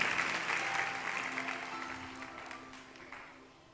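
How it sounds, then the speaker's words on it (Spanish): Congregation applauding inside a church during a Spanish-language service, a steady wash of many hands clapping that slowly fades over a few seconds, with no one speaking. "Den un aplauso a mi Señor"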